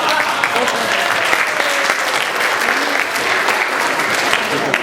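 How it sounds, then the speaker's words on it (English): Church audience applauding the sound technician in the back, a steady dense round of clapping from many hands filling the room, loud and continuous throughout with no talk over it. "give Matt a big round of applause"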